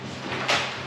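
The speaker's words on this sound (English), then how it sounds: "Did you hear your door close?" A single soft, muffled door closing inside a cabin in the Great Smoky Mountains, a brief dull thud with a slight rush of air, heard alone.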